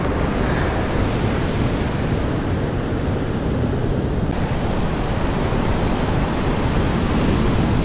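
Ocean waves wash onto a beach in southern Iceland on a foggy day near glaciers, a steady broadband roar of surf with wind, continuous and fairly loud, with no voices.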